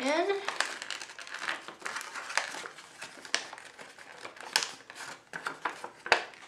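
Paper crinkles and crisp creases as a paper envelope is folded into a small bag by hand, a run of soft close rustles and sharp folding snaps alone without talk.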